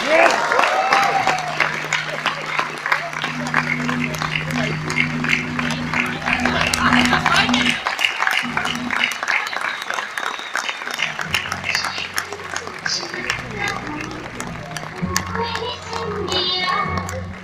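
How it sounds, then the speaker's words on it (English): Audience applause for film cast members at a 25th anniversary reunion event, clapping and cheering rising and falling with a steady low music bed and some voices calling out. "please give a loud round of applause for Mamit Singh, Aditya Lathia, Devi Bhojani"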